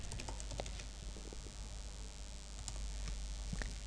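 Keys tapped on a computer keyboard while a MySQL delete query is entered, giving a steady patter of light clicks over a low background hum with no talking.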